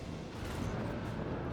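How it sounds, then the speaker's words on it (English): Broadband rumbling barrage of warship guns in a space combat video game, a lance battery and macro cannons firing together as a steady dense roar with no clear gaps or speech. "he's going to fire his lance battery and his macro cannons"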